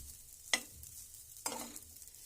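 Dalia (broken wheat) frying in a kadhai on low heat, two distinct scraping stir strokes over a faint sizzle, close and quiet, with no voices.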